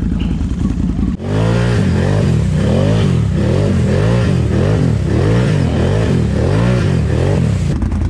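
The engine of a 2021 Can-Am Renegade XMR 1000 Visco4Lok ATV starts up close and loud, then revs repeatedly in steady rising and falling pulses.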